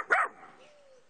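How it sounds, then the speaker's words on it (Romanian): Dog barking in a village, a single sharp bark followed by a fading whine, moderately near and faint, with no one talking. "el e un câine oarecare"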